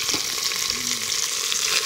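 Steady, loud sizzling of frogs frying in hot oil, a continuous crackling hiss with no talking.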